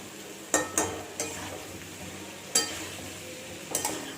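Tomatoes frying in a pan for aloo karahi with potatoes, with several sharp spoon-on-pan clinks and stirring scrapes over a quiet sizzle.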